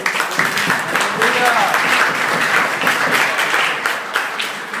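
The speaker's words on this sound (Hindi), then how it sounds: "भाई जोरदार यीशु के लिए तालियां" A church congregation claps for Jesus during a Hindi sermon, steady dense applause filling the room at close range, with voices mixed in.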